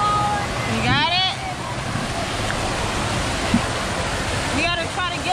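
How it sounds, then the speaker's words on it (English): Broad steady rush of a water park waterfall fills the whole stretch, with voices calling out briefly over the roar near the start and end. "look at this waterfall"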